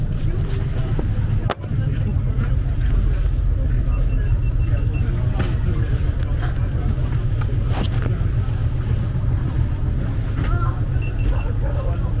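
Ivan the Terrabus, an Antarctic passenger vehicle heading to McMurdo Station, rumbles with a loud, steady low engine drone throughout, with rattling cabin noise and a brief thump near the start.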